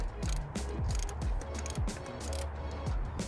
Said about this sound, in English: Torque wrench, 156 inch-pounds or 13 foot-pounds. Start torquing away.